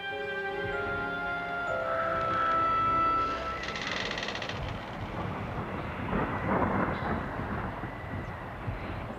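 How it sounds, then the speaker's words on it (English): A great southwest gale of wind and rain on a January day, heard as a dense, steady roaring wash of noise that swells and surges, with sustained tonal music over the first few seconds. "Great gale of wind and rain from the southwest."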